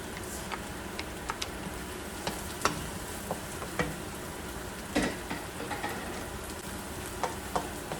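Garlic sizzles steadily in a pan for pork afritada, with sharp ticks and scrapes of stirring against the metal throughout, close and moderately quiet, with no voices.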